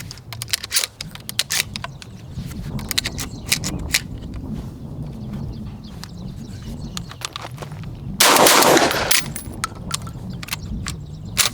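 A Benelli M3 dual-mode shotgun being broken in, with a loud, dense burst of blasts around the eight-second mark standing out above a busy background of faint clicks and handling noise.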